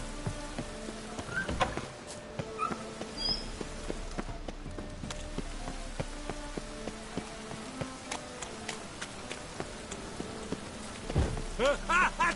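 Steady rain patters in a scene from The Witcher 3, mixed with tonal musical notes and a few louder plinks and splashes near the end.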